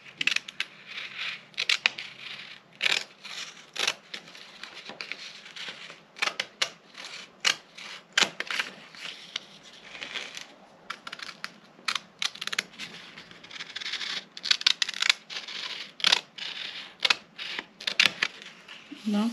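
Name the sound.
scissors cutting a paper sewing pattern for a bustier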